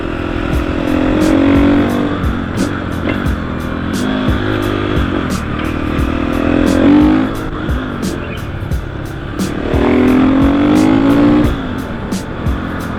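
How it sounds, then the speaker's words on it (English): Motorcycle fitted with an FMF exhaust ridden along a road, engine revving up and down through gear changes with a raspy exhaust note, close and loud, with wind rush throughout. "Now that I finally have a bike that sounds good, I can finally do a raw riding video"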